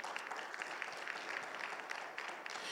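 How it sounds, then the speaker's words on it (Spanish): A crowd at a church Bible seminar applauds steadily, a dense patter of clapping heard from some distance, without pauses, throughout the short stretch. "Denle un fuerte aplauso al Señor, por favor."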